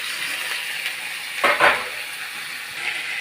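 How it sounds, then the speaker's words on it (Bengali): Potatoes go into a pan of fried onion and tomato, with a low, steady sizzle throughout and a pair of quick scraping stir strokes near the middle, then the frying settles back to a soft crackle. "দেখতেই পাচ্ছ পেঁয়াজটাও আমার ভাজা ভাজা হয়ে এসছে, টমেটোটাও ভাজা ভাজা হয়েছে। আমি আলুগুলো দিয়ে দেবো।"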